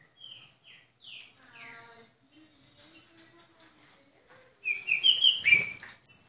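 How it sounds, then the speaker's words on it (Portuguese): A mated pair of mutation trinca-ferro saltators sings in a breeder's aviary. Short descending chirps and soft warbled notes come first, then louder, sharper whistled phrases close by. "Casal de trinca mutação."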